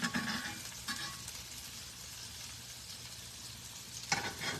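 Chicken Parmesan meatballs sizzle and fry in a pan, a quiet, steady crackling hiss with a couple of louder bursts as they are stirred or turned, no voices.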